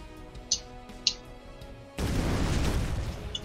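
A tank shot explodes in ShellShock Live, a loud broadband blast that starts abruptly and rolls on as a sustained rumble after two brief high pops.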